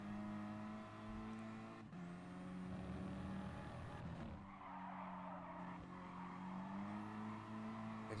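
Citroen hot hatch front tyres squeal hard through long sweeping corners in GT Sport, a loud sustained screech layered over the steady droning engine note and lasting the whole stretch with no speech.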